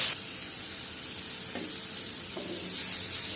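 Boiled spinach fries in a hot pan with a steady sizzle, broken by a couple of spatula stirring scrapes. No one speaks.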